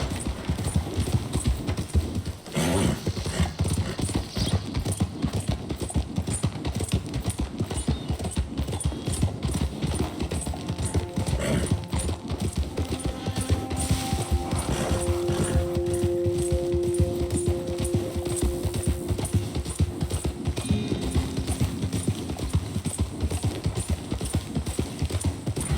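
Horse galloping in Red Dead Redemption 2, a long, fast, steady drum of hoofbeats at moderate loudness with brief tonal game sounds partway through.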